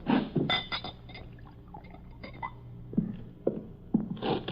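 A drink is poured into a glass in an old-time radio drama set in a carnival wagon, with faint splashing and a few soft glassy clinks and knocks, close and fairly quiet.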